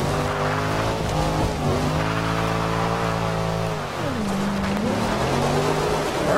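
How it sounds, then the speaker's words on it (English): Car drifting in the racing game Forza Horizon 2: a loud, sustained engine drone with steady harmonic tone, dipping and rising in pitch mid-way as revs change, with tire squeal and skid noise underneath throughout. "Get our drifts going, and then let's see if it'll keep going."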